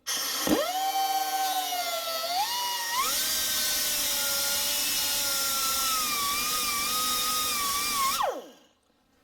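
A high, whining rotary tool grinds steadily into a stuck metal bearing taper on a hub for several seconds, pitch wavering as it bites, then spins down and stops.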